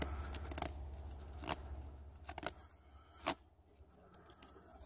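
A freshly sharpened Habilis Bushtool knife biting into wood in a quiet setting, giving a few sharp, separate cutting snaps and crackles with faint scraping between them, heard close up.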